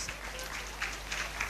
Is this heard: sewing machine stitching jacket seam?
no